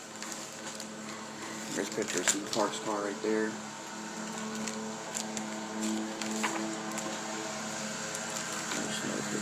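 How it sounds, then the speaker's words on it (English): A lawn mower drones steadily outside an apartment, a distant continuous engine hum under a man's close indoor speech and page handling. "Somebody's mowing lawn outside my apartment."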